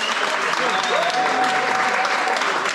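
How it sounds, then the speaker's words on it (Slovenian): A crowd claps loudly and continuously at the awards ceremony of the 2022 Argonavtski marathon, a dense steady roar of applause with a voice carrying faintly over it. "Res najbolj glasen aplavz!"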